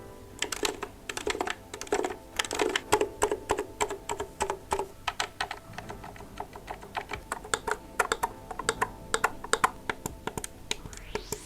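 Buttons on a QRD Maestro S3 leverless arcade-style controller are pressed over and over in quick clicky bursts at close range. The taps come with varying force and irregular rhythm, and no one speaks.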